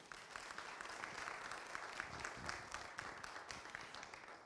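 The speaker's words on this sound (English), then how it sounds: "another big round of applause, please" An audience at a university alumni association event applauds in a steady, dense patter that sounds faint and distant.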